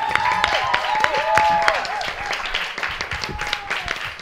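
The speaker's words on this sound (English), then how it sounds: "Let's have a big round of applause for our team captains" A studio audience at a TV comedy quiz show claps for the team captains, lively applause with sharp individual claps and whoops, a voice speaking over it throughout.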